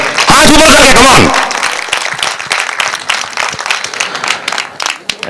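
Audience applause for a whole performing team after an item song: a loud burst of music at first, then a sustained wash of clapping from a crowd, steady and fairly close, with some voices mixed in.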